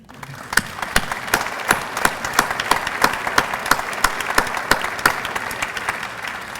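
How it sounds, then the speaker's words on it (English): An audience at an institute gathering honoring Sam Holbert breaks into steady clapping, with sharp individual claps standing out above a dense, sustained patter that carries on for several seconds. "We can clap, can't we?"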